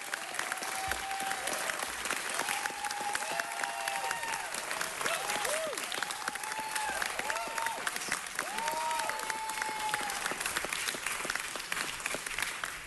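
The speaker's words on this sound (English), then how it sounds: "artistic director, Tim Dang, who deserves a huge round of applause for 23 years." A city council chamber audience gives sustained applause honoring a longtime theatre producing artistic director, steady dense clapping throughout with faint voices and whistle-like tones riding over it.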